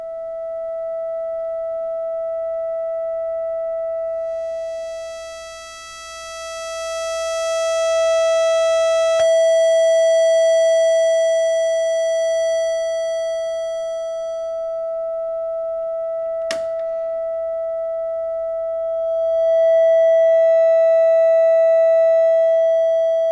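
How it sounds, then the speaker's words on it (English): Buchla Music Easel synthesizer oscillator holds a steady pure tone at one pitch while its harmonics swell in and out, broken by two sharp clicks, loud and clean with no voices. "The rotary control determines the balance between a sine wave and the selected waveform"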